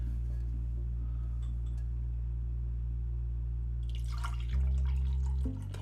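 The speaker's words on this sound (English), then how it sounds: "Pouring my tea, don't mind me." Tea poured into a cup makes a brief liquid trickle and splash late in the moment, over a steady low hum that runs throughout.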